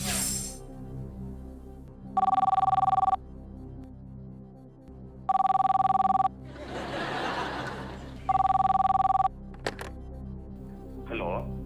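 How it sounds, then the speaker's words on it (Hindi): A telephone rings three times in long electronic trilling bursts during a television quiz show, separated by pauses with a brief burst of laughter and murmuring between rings. "डॉक्टर एन सोमेश्वरा बेंगलुरु में फोन लगाया जाए।"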